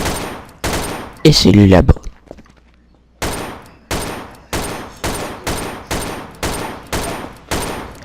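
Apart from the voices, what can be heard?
gunshots in a video game roleplay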